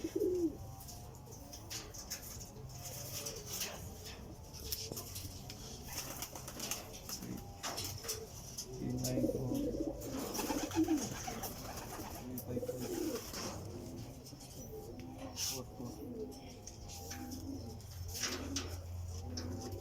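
Racing pigeons cooing at the loft during a race, with soft repeated coos and a few flaps amid low background noise, while someone talks quietly nearby.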